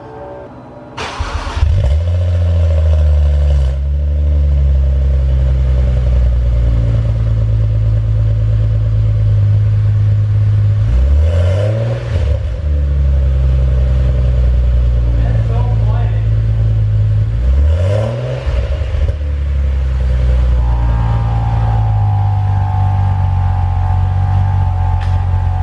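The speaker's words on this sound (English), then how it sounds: "It's gonna be loud too," BMW 135i with a 1M exhaust conversion cold starting, loud low rumbling engine with repeated revving bursts over a steady high idle, close to the microphone.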